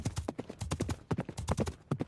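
A horse's hooves clip-clop in a quick, steady rhythm of close, distinct knocks throughout the short stretch.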